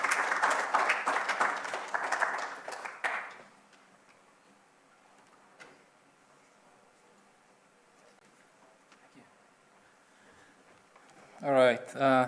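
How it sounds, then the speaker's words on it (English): Brief burst of audience applause for a speaker at a sustainable industrial spaces conference, dense clapping for about three seconds that stops abruptly, followed by a quiet room and a voice at the end. "Please give a round of applause to Chisakula."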